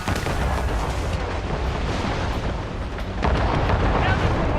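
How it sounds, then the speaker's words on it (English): Warships in Assassin's Creed Rogue fire a cannon volley, heard as a dense, rumbling barrage of booms that swells toward the end, with a voice faintly audible underneath. "They're firing a volley!"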